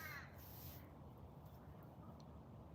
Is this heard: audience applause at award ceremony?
no